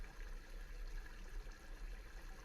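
Waterfall sound effect playing on a crypto market livestream, a steady, soft rushing water wash with a low rumble underneath, continuous and unbroken with no talking.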